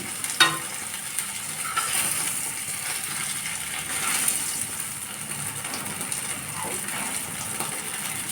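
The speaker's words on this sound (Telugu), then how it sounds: "ఈ నూనె బాగా సలసలా మాగుతుంది, సలసలా కాగిండాలి కాబట్టి" Fish frying in hot, bubbling oil as a steady, even sizzle with a fuller hiss and a soft gush near the start, continuing close and unbroken with no voices.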